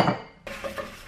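Metal pan being cleaned in a home kitchen, with a clattering scrape followed by a few short rubbing and scraping strokes, close and moderately loud, no talking.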